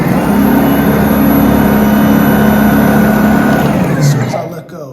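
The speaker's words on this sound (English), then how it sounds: "You can hear the engine, or the motor, it actually sounds pretty cool" The brushless motor of a Ryobi 40V cordless 18-inch single-stage electric snow blower gives a loud, steady hum with a whirring whine, then winds down quickly near the end; a person appears to talk over it.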